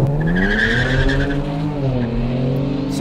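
A Kia Stinger GT launches hard from a standstill with tyre slip, engine revving up through rising harmonics as tyres squeal briefly, loud and close.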